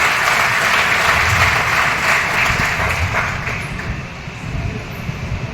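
A meeting audience in a Lucknow hall applauding to welcome a guest, dense sustained clapping that fills the room and holds steady before thinning slightly near the end.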